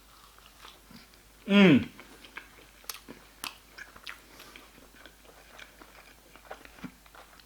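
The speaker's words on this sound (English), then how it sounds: "I'll take a big bite." Someone takes a big bite of boneless chicken balti and chews close to the microphone, with a soft crunch followed by scattered wet chewing sounds, and a brief hum of approval from the eater.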